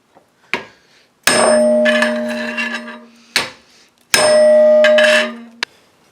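Annealed steel pipe being pried and unrolled into flat stock for a sword, giving loud ringing metallic clangs and scraping groans with long resonant tones, in two sustained bursts separated by sharp hits.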